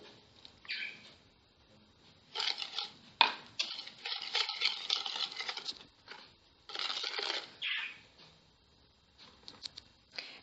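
Sugar, salt and vegetable oil are whisked together for a Moroccan cake batter in a bowl, making repeated bursts of close, scraping, rattling mixing with short pauses between strokes.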